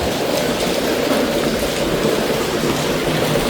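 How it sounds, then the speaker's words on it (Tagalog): Heavy rain pours down steadily in a city street in the Philippines, a dense, loud, unbroken hiss with no voices. "Ang lakas ng ulan."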